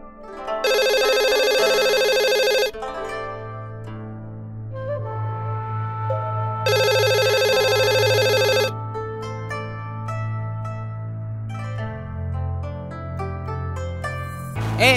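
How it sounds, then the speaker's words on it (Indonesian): A telephone ringtone rings in two loud electronic bursts, each about two seconds, separated by a quieter stretch with low background music continuing underneath throughout. "Telepon."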